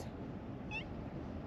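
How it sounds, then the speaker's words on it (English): A cat on a holiday tennis court in Corfu, Greece gives a single short, close meow over steady outdoor background noise. "I spotted a cat. She's here to welcome us."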